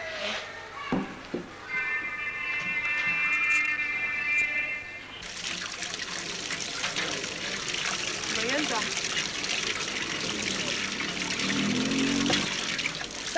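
Water is poured into a jug, a steady gushing splash that runs continuously at close range and grows fuller partway through. A few faint background sounds occur early on.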